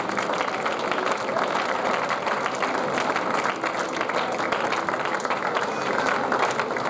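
A church congregation claps and applauds together, a dense sustained wash of hand claps and crowd noise that stays loud and even throughout, with voices mixed in.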